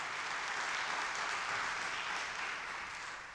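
A church congregation applauds with a soft, even wash of clapping that holds steady for a few seconds before thinning slightly, faint and heard from a distance.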